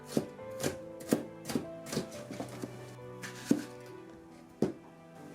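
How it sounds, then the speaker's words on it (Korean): A knife cuts red and yellow bell peppers into long strips on a cutting board in a series of sharp, uneven knocks, about a dozen strikes close up with short pauses between. "이렇게 길게 길게 잘라주세요."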